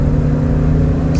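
A 1978 Avanti II at full throttle, its engine a loud, steady low rumble as it pulls hard from a launch, with a brief hiss near the end that may be tire noise; no one speaks.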